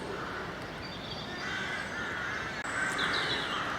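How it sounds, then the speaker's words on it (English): Crows caw from a distance over a steady outdoor background in an ancient oak woodland, harsh repeated calls rising and falling without any talking. "so I think it's just me and the crows here"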